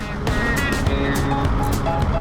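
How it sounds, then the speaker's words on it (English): Old 1968 International Fleet Star 2000 dump truck with a Detroit diesel engine, droning loud and steady from inside the cab with a high revving whine, mixed with road rumble and rattles. "Detroit diesel screaming."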